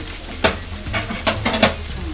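Onions frying in hot oil at a street food stall give a steady sizzle, broken by several sharp clinks and scrapes of a utensil stirring against the metal pan.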